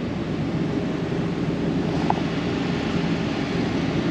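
An air conditioner in an apartment on Isla Margarita, Venezuela, roars with a steady, deep, airplane-like drone that holds evenly from start to finish.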